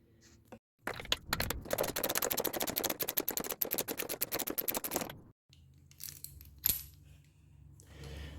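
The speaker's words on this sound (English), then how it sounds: "To take it out, you're going to need a 13/16 socket." A ratchet and 13/16 socket loosen the spark plug on a Husqvarna PW3200 pressure washer, a fast run of close, loud metallic clicks for several seconds, then a short pause and a few lighter metal clinks.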